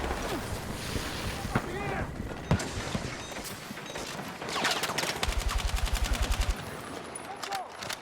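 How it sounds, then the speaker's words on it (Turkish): A grenade thrown and exploding in the Battlefield 6 video game: a sharp blast punches through, followed by a rapid burst of automatic gunfire amid wind and ambient battlefield noise. "Şöyle bir bomba attım."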